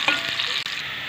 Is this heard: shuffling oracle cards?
no